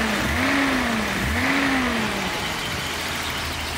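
A cold Datsun 280ZX engine revved gently twice, rising and falling in pitch close by, then settling back toward a steady idle hum.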